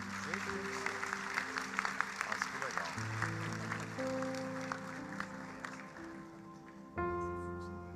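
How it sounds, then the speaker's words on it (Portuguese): Applause from a church crowd, a dense patter of many hands clapping together, heard under music with sustained tones and a voice speaking. "Uma salva de palmas."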